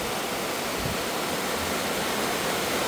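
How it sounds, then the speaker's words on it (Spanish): The Mojaflores river in El Salvador rushing in flood after heavy rain, a loud, constant broadband roar of churning water with no speech. "Aquí estamos en el río Mojaflores."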